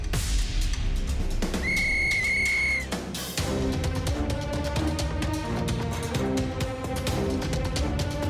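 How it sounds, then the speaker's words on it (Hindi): A cartoon referee's whistle gives a shrill, sustained double blast to start a race, ringing clearly for a moment before a loud, busy music score takes over. "सीटी बजाते ही रेस शुरू हो जाएगी"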